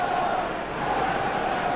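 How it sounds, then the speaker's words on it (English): A football crowd at a Premier League match between Manchester City and Manchester United calls for a player to shoot, a steady, roaring wash of many voices that is loud and sustained throughout. "Crowd calling for him to shoot"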